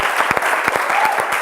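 Applause from a Bible institute audience honouring a third-year class group, steady clapping of many hands filling the room, moderately loud and continuous with no talk over it.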